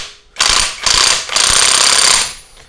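Tightening a CVT bolt on a 2023 Yamaha Xmax with a torque wrench gives loud, harsh mechanical ratcheting in two or three close bursts over a few seconds, with no talking.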